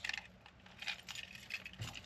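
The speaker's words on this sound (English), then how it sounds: "keys." A bunch of keys jangles in a few quick, light metallic bursts, close and fairly quiet, with brief pauses between the rattles.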